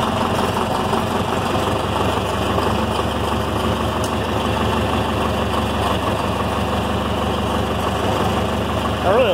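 A John Deere 3020 farm tractor engine idles with a steady low diesel rumble close by, running evenly throughout while someone talks over it.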